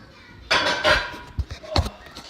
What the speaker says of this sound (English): we're going to transfer them right onto our pan